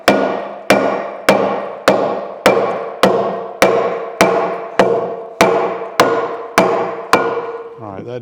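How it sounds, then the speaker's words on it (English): A lead soft-faced hammer pounds the rusted journals of a Chattanooga No. 14 cane mill, eleven loud, evenly spaced metallic blows about every half second, each ringing briefly before the next, with no talk. "this is a lead soft-faced hammer. Shouldn't damage the journals."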